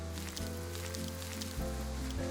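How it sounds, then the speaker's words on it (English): Rain falling in the video game Roblox, a soft patter of drops spread across the clip, with steady low game tones underneath. "It's raining."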